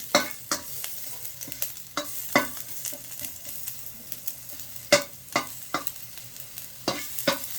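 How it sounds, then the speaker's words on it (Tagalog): Corned beef and onion sautéing in a 32 cm non-stick wok with a little oil, a soft steady sizzle broken by irregular scraping and clacking of a utensil stirring, close and without talk. "Magigisa po tayo ng corn beef."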